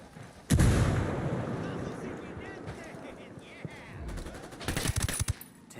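A grenade blasts in a military video game campaign, followed by heavy bursts of gunfire near and loud, with a shouted voice in the mix.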